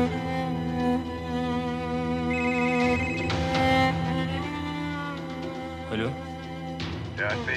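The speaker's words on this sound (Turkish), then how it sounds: "Aç şu telefonu Süreyya, aç şu telefonu." A telephone rings repeatedly with a steady electronic tone, heard under people talking.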